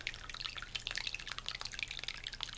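A tabletop water fountain trickles with a quick, constant patter of small drips and splashes, soft and close, continuing without pause and with no voices.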